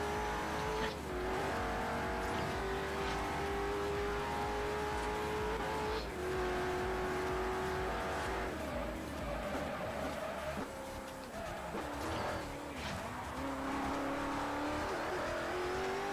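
A race car in Forza Horizon is pushed to full throttle, the engine note climbing and shifting through gears in a steady loud roar that runs throughout, with brief dips between shifts.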